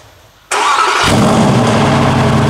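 A sports car engine cold-starts with a sudden loud burst at about half a second, then settles into a harsh, loud, raw high idle.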